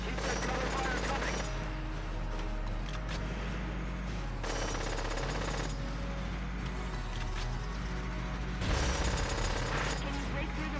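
Rapid bursts of gunfire in Valkyria Chronicles combat, crackling volleys of machine-gun fire repeating in clusters over a steady low rumble.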